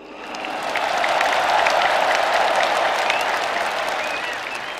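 A large crowd applauds President Jokowi at a PDI Perjuangan rally commemorating Bung Karno, a dense continuous roar of clapping that swells and holds steady, loud and enveloping, without distinct individual claps.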